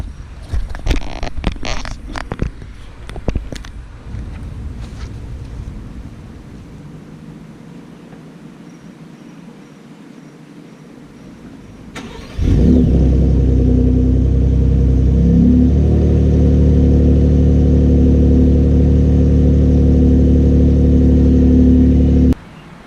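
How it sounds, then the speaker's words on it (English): A Ford Raptor truck's engine cold starts after some handling clatter and quiet, then roars loud and steady at a high idle close by until the end, with no talking. "we got to start this off with a cold start."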